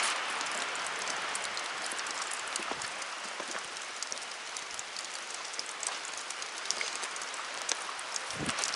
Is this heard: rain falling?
yes